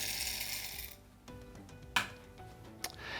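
Lightly roasted coffee beans ground in a Kinu Phoenix hand grinder at a medium setting. A quiet gritty rasp gives way to soft crunching and sharp little clicks and clinks, close and faint.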